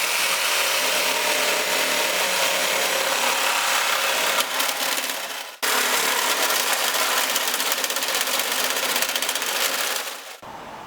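Loud, continuous power-tool cutting on a vehicle fender while fitting XRC tube fenders, a harsh grinding roar that stops briefly mid-way, resumes, and cuts off near the end.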